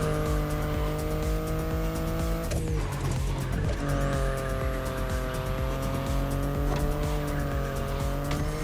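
A BMW i8 in The Crew Motorfest drives with a steady, loud engine drone. Partway through, a brief squeal and a skid break in as the tone dips, then the even engine note returns.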